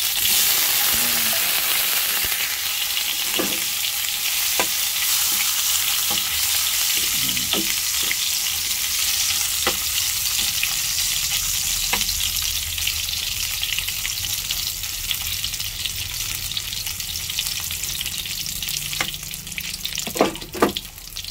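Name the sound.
Japanese sausage frying in a pan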